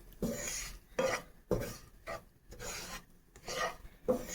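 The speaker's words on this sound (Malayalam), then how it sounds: "നമ്മുടെ ഗോതമ്പ് പൊടിയും നെയ്യും കൂടി മിക്സ് ആക്കിക്കൊണ്ടിരിക്കുകയാണ്" Wheat flour and ghee are stirred together in a pan, a spatula rasping across the surface in regular back-and-forth strokes about twice a second, close and soft with brief pauses between.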